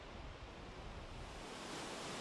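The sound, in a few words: rushing water of a waterfall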